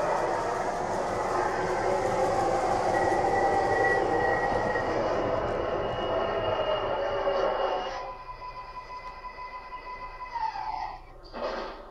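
A model MTA R142A 4 Lexington Avenue express subway train runs with a loud rushing roar and a high squeal, then slows and quiets, ending with a brief hiss.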